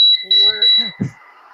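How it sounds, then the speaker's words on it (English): A smoke alarm gives a steady high-pitched beep near the start, heard while a person talks over it and partly drowns it out. "smoke alarm?"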